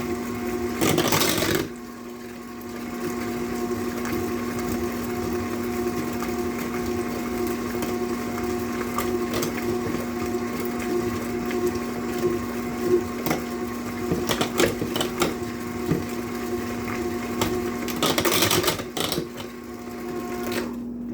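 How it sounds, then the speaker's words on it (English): A small electric hand mixer runs on low through chocolate sheet cake batter, a steady whirring motor hum with rattling beaters that holds for the whole stretch, with louder bursts near the start and near the end. "I'm going to use my little hand mixer to mix all this up"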